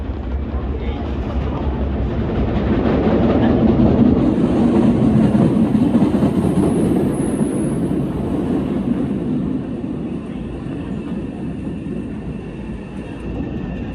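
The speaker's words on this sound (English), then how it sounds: "Alright, orange line train is coming. Alright, here comes the train." A Boston MBTA Orange Line subway train roars steadily into the station, a loud sustained rumble with a high metallic squeal of brakes riding above it.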